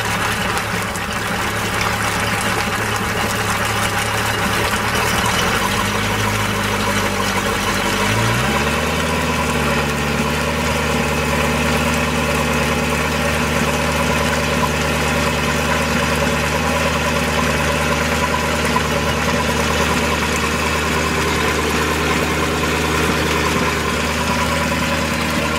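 Inboard engine of a 2005 Sea Ray 240 Sundeck runs steadily during a freshwater flush at the boatyard, a close, continuous idle that shifts to a lower pitch partway through, with water rushing underneath.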